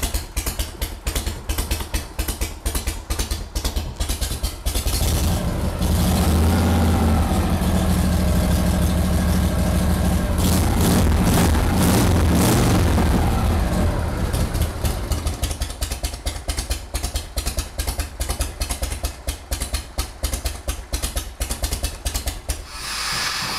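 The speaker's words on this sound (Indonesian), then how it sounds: "terlihat dari sound yang datang dari knalpot ini" A Shovel Bobber motorcycle, built in the original Brandal style, idles through its exhaust with a steady low rumble that swells louder in the middle of the clip and then settles. No voices are heard.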